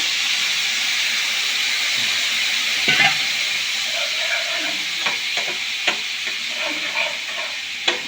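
Garlic butter chicken sauce, thickened with cornflour water, simmers and sizzles with a steady hiss in the pan, with a few light spoon taps and stirring scrapes near the end.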